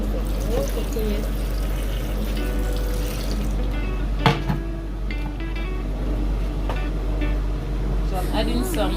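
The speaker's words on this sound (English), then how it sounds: "Adding some water to it." Water pours and trickles steadily into a blender over a low constant hum, with a few clinks and brief background voices.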